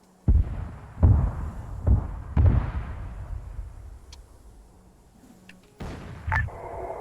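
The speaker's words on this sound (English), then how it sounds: "I'm gonna get on this thing and start shooting at people" A mounted gun in the video game Arma 3 fires four heavy, booming shots at roughly one-second intervals, then pauses before another deep blast and a trailing rumble, each report loud and reverberant.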